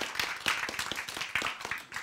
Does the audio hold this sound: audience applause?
yes